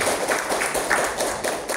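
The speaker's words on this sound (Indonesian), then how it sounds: "Tepuk tangan untuk Putri" Audience applause at a district government event in Kapuas, Indonesia, a steady wash of clapping for an honoree lasting the whole moment, fairly close and even in level.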